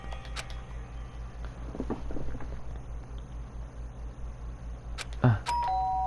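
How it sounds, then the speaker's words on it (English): In the video game Danganronpa: Trigger Happy Havoc, a doorbell chimes once near the end, ringing clearly over a low, pulsing background music loop. "did I hear the doorbell?"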